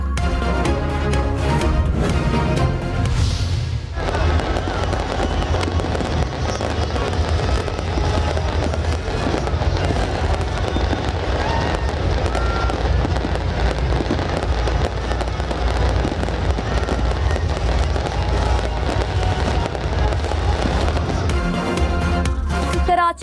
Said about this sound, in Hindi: रात 12 बजते ही नेशनल स्टेडियम में आतिशबाजी का मुजाहिरा।